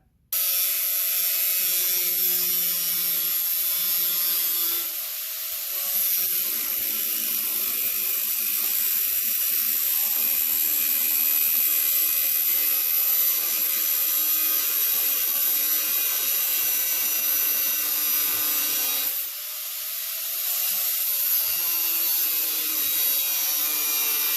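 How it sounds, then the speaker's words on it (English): A power grinder dresses down burrs on a car door panel during bodywork, running continuously for about twenty seconds with steady high-pitched whine, briefly easing off near five and nineteen seconds before resuming at full strength. "first I got to clean up these burrs so it sits flatter"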